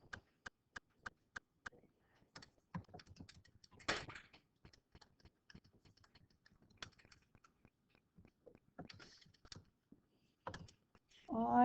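Soft, quick clicks of calculator keys as numbers are entered, a fast series of taps at the start followed by scattered, irregular presses, close and quiet, with brief murmured speech near the end.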